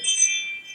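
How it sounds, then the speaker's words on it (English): A short, bright electronic doorbell chime rings once, clear and tonal, fading within a second. "you guys probably heard that. I'm going to stop that real quick. Easily done. That's my doorbell thing."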